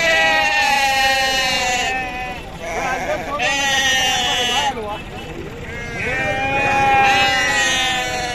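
Dumba sheep bleat repeatedly at a busy goat market ahead of Bakri Eid, loud and close, in long wavering cries with brief gaps, over a background of crowd chatter.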